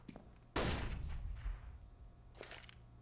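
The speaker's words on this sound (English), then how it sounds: "There's a nice little flashbang for all y'all." A flashbang grenade goes off during a Counter-Strike match on Mirage, one sudden sharp bang that rings out and fades, followed by a fainter crack about two seconds later over quiet game ambience.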